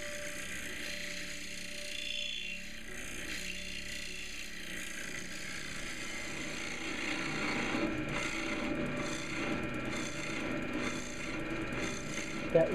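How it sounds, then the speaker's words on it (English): A tool scrapes a beech bowl turning on a woodturning lathe, giving a steady rasping, whirring drone that grows slightly louder and rougher toward the end. "doing some scraping now"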